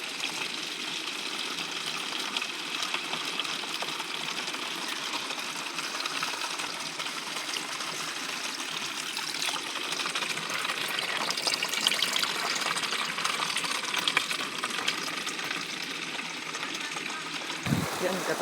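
Water gushes in a strong, steady flow, a loud continuous rush with no letup, close by on a rural farm.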